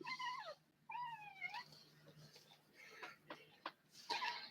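A pet cat named Uno making a couple of rising and falling meows, then scattered soft sounds, faint and close.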